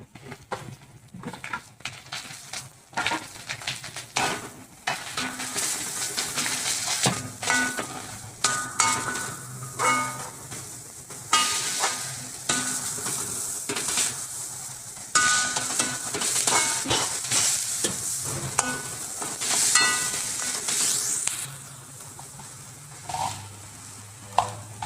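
Small shallots sautéing with curry leaves in a pan for garlic pepper rice, a steady loud sizzle and frying hiss broken by repeated stirring scrapes throughout, with no talk.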